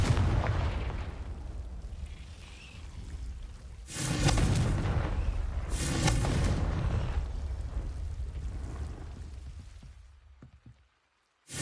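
Booming fire-spell blasts from Hogwarts Legacy gameplay, two loud explosive bursts over a dense rumbling game soundscape that fades to near silence at the end.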